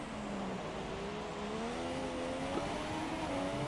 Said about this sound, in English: really revving that engine out now